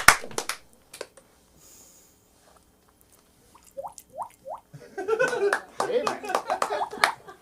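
An audience at a live comedy show claps, starting with a few scattered claps and swelling into a denser burst of applause in the second half, with voices mixed in.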